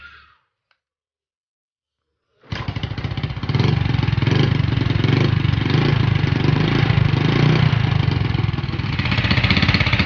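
A motorcycle engine, freshly fitted with a new stator and CDI ignition, fires up after a brief silence and settles into a steady, close, rumbling idle that keeps running throughout.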